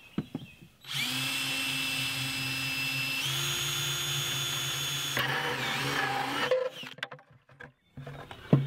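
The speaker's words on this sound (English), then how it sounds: "we're gonna drill several more of these all, all the way around it" A power drill whirs steadily for several seconds, shifting pitch as it bites into a plastic bucket, then winds down amid scattered clicks and rattles.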